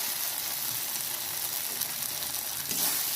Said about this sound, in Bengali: এবার এটাতে আমি একটু সামান্য জল দিয়ে মশলাটাকে পুরো কষিয়ে নেব